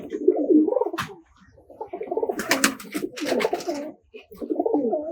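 Pigeons in a tumbler pigeon loft give repeated soft, throaty coos in several bursts, fairly close and moderately loud, with brief pauses between phrases and a little fluttering.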